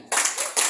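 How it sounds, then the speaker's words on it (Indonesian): An audience at an Indonesian-language gathering does a patterned Superman clap: three short, crisp bursts of group clapping in quick succession, close and fairly loud. "Tepuk Superman"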